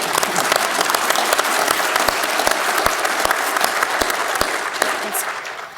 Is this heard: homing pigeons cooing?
no